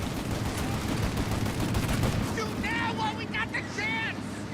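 Pistol fire in the video game Mafia Definitive Edition, a dense run of sharp shots and bursts blended with game noise and bright ringing tones, with someone talking over it.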